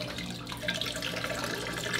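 A running pump pushes water through a wine bulk pasteurization setup, giving a steady, close rush of flowing liquid with a low mechanical hum beneath it and no talking.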